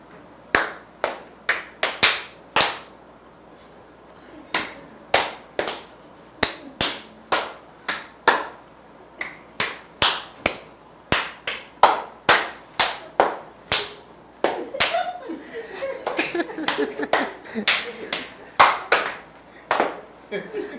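Single hand claps pass one by one around a group playing a wave clapping game, a steady chain of sharp close claps at irregular spacing, growing denser and overlapping toward the end, with faint voices underneath.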